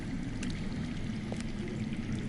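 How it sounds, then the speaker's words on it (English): Underground water flowing in a Game of Thrones video game, a steady low rushing wash with faint trickling detail, continuous and fairly quiet throughout, no voices. "I hear water. From underground."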